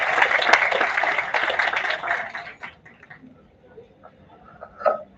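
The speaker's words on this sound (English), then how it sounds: "Let's welcome Ms. Hongmei Hei with a huge round of applause." Audience applause at an international multidisciplinary conference, a dense burst of clapping that fills the first two and a half seconds, then thins to scattered claps and fades out with a brief final flurry.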